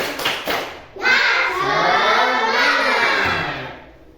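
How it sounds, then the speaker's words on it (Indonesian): A school class performs the 'tepuk semangat' rhythmic clapping chant, a loud crowd of children's voices and claps swelling in together after a teacher's short spoken lead-in and holding steady for several seconds. "kita tepuk semangat dulu"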